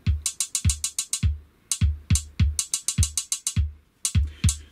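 A drum machine patch on a Serge TKB sequencer fires fast bursts of ratcheting hits. Short percussive strikes repeat in quick clusters with brief gaps between them, crisp, dry and close, with no talking.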